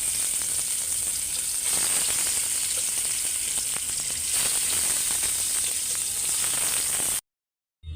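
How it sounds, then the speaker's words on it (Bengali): Spiced fish fries in a pan, a loud continuous sizzle and crackle of oil that runs steadily, then cuts out abruptly near the end; no one speaks. "মাছটা সুন্দর করে ধুইয়া ময় মশলা মাখায় নিয়েছি। তো ভাজতে দিয়া"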